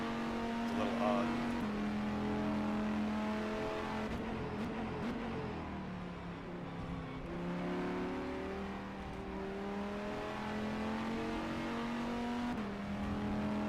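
A race car engine in the rFactor 2 sim racing game drones and revs steadily throughout, shifting pitch through gear changes, under continuous commentary talk.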